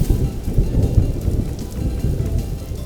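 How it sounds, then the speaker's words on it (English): A thunderstorm in the survival game Vintage Story brings heavy rain with a deep, continuous low rumble of thunder, a dense, loud wash of rainfall that holds steady throughout with no talking. "Oh no, there's a little bit of rain. We're on the very edge of the storm."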